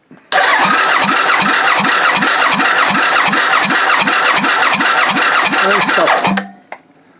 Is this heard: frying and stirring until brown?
no